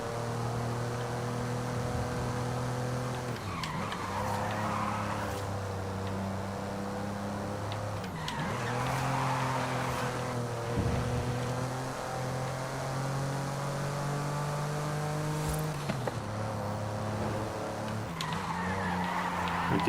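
A 1982 Porsche 911 Turbo 3.3 in the Forza Horizon 5 racing game drives with a steady engine drone, shifting pitch as it revs and changes gear, broken by repeated tire-skid squeals.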